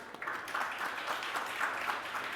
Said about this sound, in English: Jayne, Tobias, Matthew, Dave, give them a round of applause.